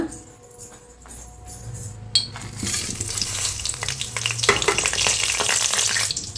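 Cinnamon and other whole spices crackle in hot oil for a quick gravy, starting quiet before a sharp clink and then a dense, loud sizzle with stirring that swells and holds, close up with no voices.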